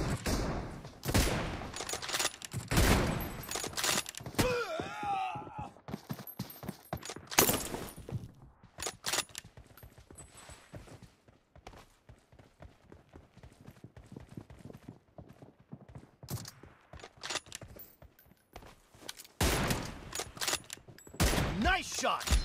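Gunfire in a video game match comes as bursts of rapid shots, then a quieter spell of scattered clicks and small impacts, then more loud bursts near the end, with a voice briefly over the action.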